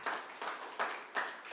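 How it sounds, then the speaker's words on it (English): Several slow, distinct claps at an elementary school Terrific Kids recognition event, a few people clapping in a loose, roughly regular rhythm, faint and close with no voices. "Let's give her a round of applause."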